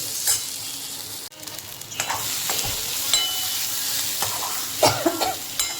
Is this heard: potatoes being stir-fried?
yes